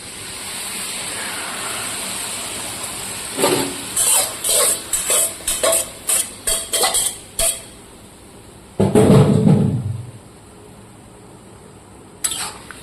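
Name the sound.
bottle gourd cooking in pan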